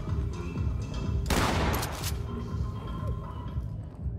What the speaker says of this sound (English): I have a breach shotgun. You want me to use it?